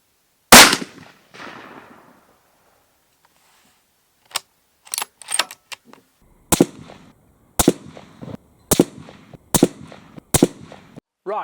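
Steyr Scout II rifle in .223 Remington fired several times, a sharp close crack followed by a string of evenly spaced shots with brief echoing tails, no talking.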